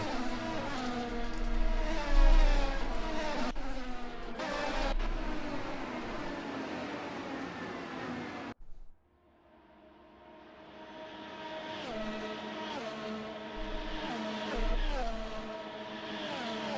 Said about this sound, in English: What a nice train of cars.